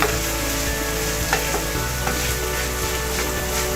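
A corn snack mix stirred in a hot pan, with a steady loud sizzle and frying crackle throughout and a few light scraping stir strokes, no talking.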